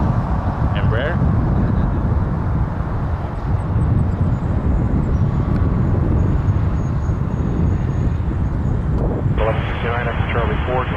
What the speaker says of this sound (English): United Express 3555 in next from Newark on an E170